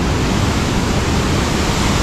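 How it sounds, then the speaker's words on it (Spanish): The Salto de Mortiño waterfall in Huila, Colombia, a tall cascade dropping about 100 metres, roars as a loud, unbroken wash of falling water. "Y esta es la cascada que tenemos"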